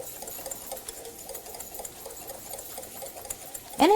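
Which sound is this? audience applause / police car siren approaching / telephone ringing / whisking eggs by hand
whisking eggs by hand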